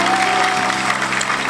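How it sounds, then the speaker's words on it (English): A congregation at a crusade at Alaba International Market claps their hands, a loud, dense burst of applause with some crowd noise and faint voices mixed in. "Give the Lord a hand clap."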